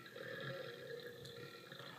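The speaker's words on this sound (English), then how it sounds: "I just need a burp." A person's drawn-out, low burp continues for about two seconds, fairly quiet and with no talking over it.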